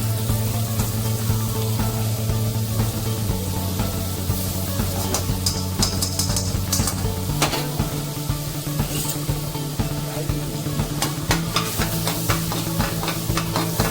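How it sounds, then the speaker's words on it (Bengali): About two spoons of butter melting in a hot kadai for a chicken rezala tadka, sizzling loudly and continuously up close, with frequent metallic stirring clinks and scrapes throughout. "আমি তড়কা দেবো বলে মাংসে কড়াইটা গরম করে এর মধ্যে আমি 2 চামচ মতন বাটার দিয়ে দিচ্ছি"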